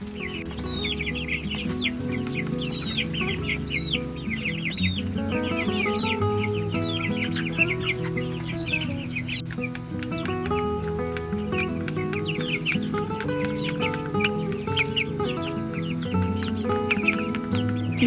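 Cornish meat chickens clucking steadily at close range on a farm, with overlapping repeated clucks and soft calls from several birds forming a continuous flock chatter throughout.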